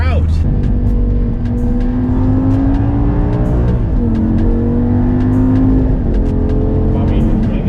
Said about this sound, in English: Bobby, rev it out. You rev it out. You're shifting at 6K.